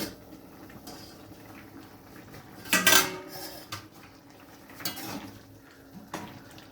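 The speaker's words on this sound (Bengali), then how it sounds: "এবার আমি ঢাকাটা খুলে দেখে নিচ্ছি।" A lid lifted off a pot of cauliflower and soybean curry with potatoes, giving a bright metallic clatter, followed by softer clinks of cookware and utensils and a faint bubbling simmer.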